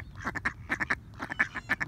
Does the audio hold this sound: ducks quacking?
yes